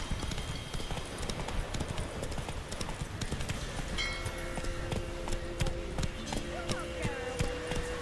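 Hooves of the horse in The Witcher 3 gallop in a fast, steady clip-clop over the ground, loud and continuous through the scene, with game music and voices playing over it.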